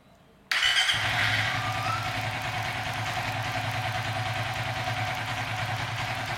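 A Suzuki FU 150 FI motorcycle with a standard injector and ECU fires up after a quiet moment, then settles into a steady, even idle that runs on close by.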